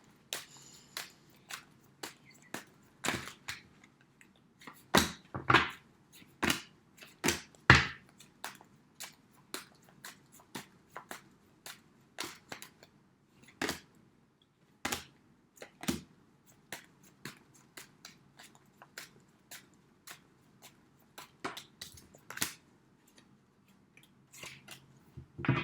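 Tarot cards shuffled and dealt out one by one, giving a run of crisp, close snaps and flicks at an uneven rhythm, with short quiet gaps between them and no talking.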